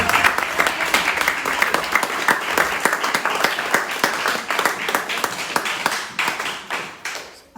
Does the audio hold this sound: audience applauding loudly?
yes